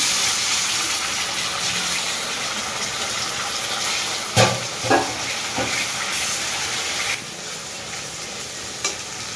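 Spice paste of ginger, chili, garlic, cumin and tomato frying in a pan for a jackfruit and prawn curry, a loud continuous sizzle with a few sharp stirring scrapes and clatters.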